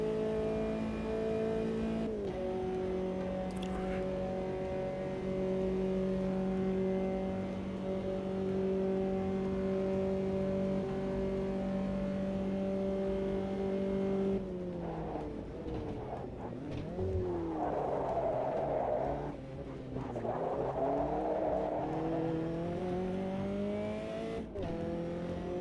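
A race car engine in the Automobilista 2 racing game holds a steady loud drone, then drops and revs up and down with rising and falling pitch, with brief tire noise near the end.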